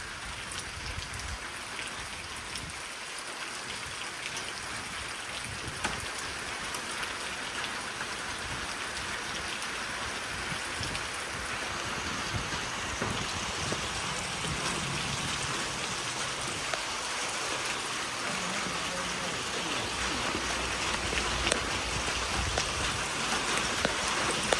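Heavy rain from an afternoon storm pours steadily outdoors, a dense continuous hiss of drops on surfaces that builds slightly louder over about twenty-five seconds, with no voices.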